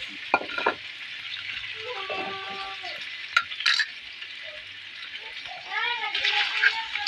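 Meat sizzles and sautés in a pan with a constant hissing fry and scraping stirs, while a voice speaks briefly and distant background voices come and go.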